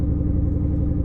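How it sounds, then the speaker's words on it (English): A Ford Mustang engine runs at a steady idle just after starting up, a loud, close, continuous low rumble with no breaks and no voices. "The car starts up beautifully now."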